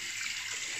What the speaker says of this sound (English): I'm going to be using hot water